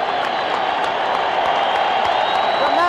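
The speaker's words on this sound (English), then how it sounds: "They won't stop applauding." A huge boxing crowd at Madison Square Garden keeps up a sustained, dense ovation of applause, with a commentator speaking over the steady roar.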